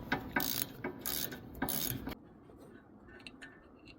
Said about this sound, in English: we can break the caliper bolt loose